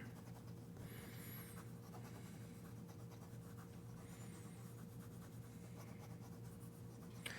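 A fountain pen with a steel 1.1 stub nib scratching across paper, faint steady strokes under a low room hum, close and quiet, no voices.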